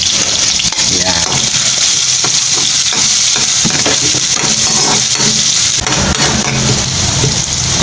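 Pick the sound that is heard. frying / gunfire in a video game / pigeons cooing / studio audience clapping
frying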